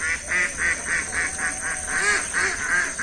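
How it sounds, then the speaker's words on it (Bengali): A flock of ducks in a village quacks and honks nonstop, a quick run of loud calls close by, with no voices. "হাঁস ছেড়ে দিছি"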